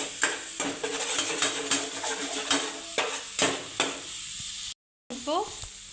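The onion base for a mutton kuzhambu sizzles loudly in plenty of hot oil while it is stirred and sautéed, with regular scraping strokes of a spoon against the pan over the steady frying hiss.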